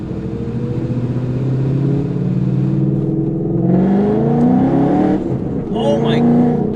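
A 2014 Ford Mustang GT engine pulling from inside the car, its loud droning note rising in pitch as it accelerates, with a voice speaking over it near the end.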